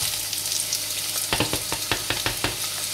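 Chopped onion dropped into hot vegetable oil in a pan, a steady close sizzle and crackle with a burst of sharper pops and stirring clicks partway through, no voices.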